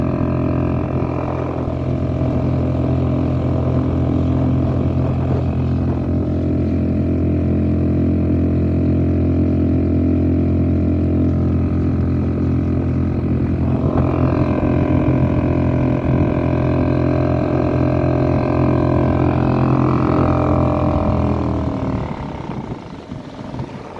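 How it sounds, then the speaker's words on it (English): A Suzuki 2.5 outboard motor on a Sundolphin American 12 boat runs at higher RPM, giving a loud, steady droning whine that holds for about twenty seconds, rises slightly in pitch partway through, then drops off at the end. "Here the motor picked up RPM."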